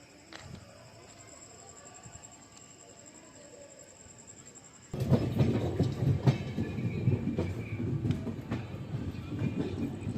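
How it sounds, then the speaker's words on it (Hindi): Kamayani Express pulling into Prayagraj Junction: a quiet carriage hum gives way at about five seconds to loud, rumbling wheel-and-track noise with rattling clatter that carries on steadily to the end. "फिलहाल हमारी ट्रेन का प्रयागराज जंक्शन में अराइवल हो रहा है।"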